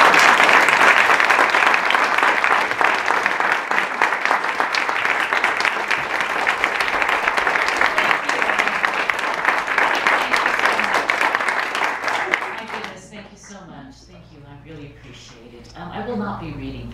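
An audience gives an author a warm welcome with loud, sustained applause that lasts about twelve seconds, then fades, and a voice begins speaking near the end.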